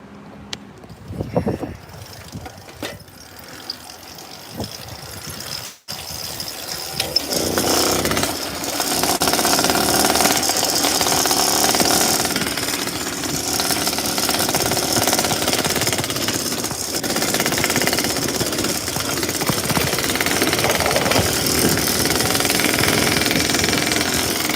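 A motorcycle engine roars steadily during a short two-mile ride to the store, loud and continuous after a quieter start, with heavy wind rush blended into the drone.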